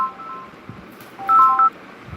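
A short burst of telephone keypad dialing tones rings out, several quick beeps in a row over faint background hiss in an indoor home setting.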